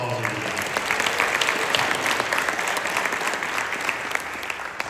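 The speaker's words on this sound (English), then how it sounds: "Let's give our esteemed governors another round of applause." At a Rotary district gathering, the crowd gives visiting governors another round of applause. Many hands clap in a steady, sustained wash, with faint voices murmuring underneath near the start.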